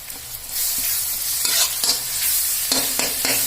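Steady frying sizzle of onions with ginger garlic paste, with occasional stirring scrapes and clinks, close up and continuous, no voices.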